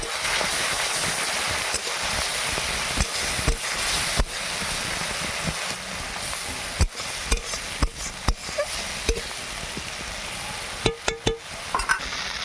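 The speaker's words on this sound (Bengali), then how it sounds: "এবার তেজপাতা দিয়ে একটু নাড়াচাড়া করবো।" A pan of turmeric and bay leaf frying and being stirred, a steady hiss of sizzling oil broken by sharp clicks and scrapes of the spoon against the pan, growing more frequent toward the end.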